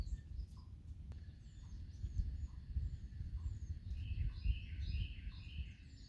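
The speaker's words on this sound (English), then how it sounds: "You can hear all the birds chirping" Birds chirping outdoors in spring among leafing trees, a redbud and a blooming dogwood: scattered high calls and tweets, some near and some farther off, over a steady low outdoor rumble.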